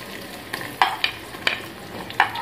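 Chopped onions frying in hot ghee for an egg and potato curry, with a steady low sizzle broken by a few sharp stirring scrapes and clinks from a spoon in the pan.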